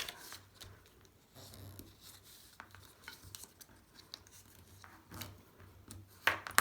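Craft card pieces folded by hand along score lines, soft papery creases, rubs and rustles in short bursts, close and quiet, no talking.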